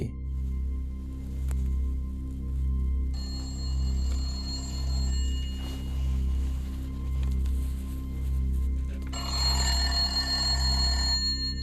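An old landline telephone in a room of a house without power rings in repeated bursts with pauses between them, over a steady low hum.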